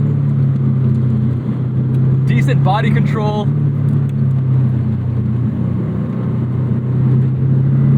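A 2001 Subaru Impreza 2.5RS being driven hard, its engine droning loud and steady throughout with a brief rise in pitch partway, while someone talks over the engine.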